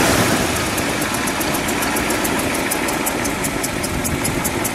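A 1961 Imperial Custom Southampton's 413 V8 engine idles steadily and loudly with an even mechanical throb, alone without voices.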